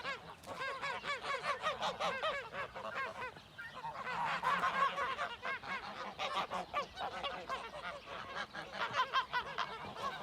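A flock of geese on a goose farm honks repeatedly in overlapping, rhythmic calls, loud and close, with no talk over them.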